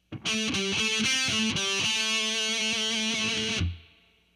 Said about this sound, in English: The next lick is out of the A pentatonic minor scale.